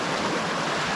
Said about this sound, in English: Now I'm just down at a river now